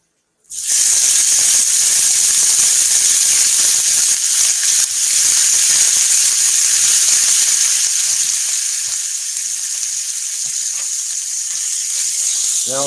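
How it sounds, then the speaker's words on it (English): Fajita meat hitting a hot pan, an abrupt onset of loud, bright, steady sizzling and hissing that continues strongly and then eases slightly, close to the microphone with no talking over it. "Hear that little bit of sizzle?"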